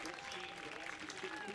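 A home crowd at a football match applauds its captain with a warm ovation. The clapping is steady and faint, heard from a distance, with an announcer talking over it.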